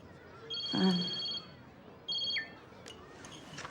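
A phone rings in two electronic trilling bursts with a short pause between them, indoors at moderate loudness, followed by faint background noise.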